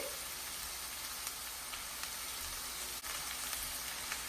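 A steady, hissing sizzle of cauliflower frying uncovered in a pan with ginger paste and salt, quiet and continuous with faint crackles.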